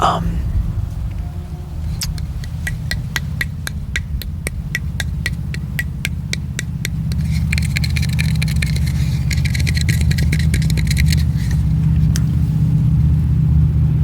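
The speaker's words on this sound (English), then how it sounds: "there's gonna be a lot of background noise from people driving loud cars or motorcycles" On a city street, a vehicle engine rumbles low and builds as traffic passes, with a steady drone and a louder stretch in the second half, while a person talks over it.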